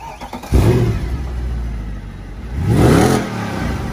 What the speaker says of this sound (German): Und ich schmeiß mich jetzt rein und fahre damit nach Hause.